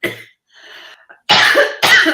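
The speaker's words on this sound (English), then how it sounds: "cough attack" Two loud, harsh coughing bursts close up, preceded by quieter throat and breath noises.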